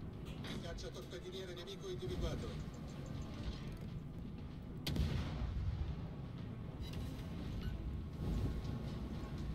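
Booming cannon-like blasts from World of Warships, with a sharp loud burst midway, mixed with continuous game noise and talking.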